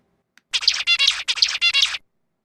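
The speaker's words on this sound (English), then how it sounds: "This is a zebra finch song." Zebra finch song at full speed: a rapid run of buzzy, rasping chirped syllables in two repeated phrases lasting about a second and a half, close and clear against silence.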